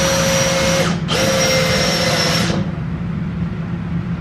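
A power drill whines loudly as it drives 1¼-inch Phillips head screws into a wooden bedside dresser, two close bursts with a brief pause between, then the motor spins down; no speech.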